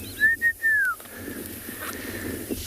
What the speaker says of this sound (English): White-faced whistling ducks.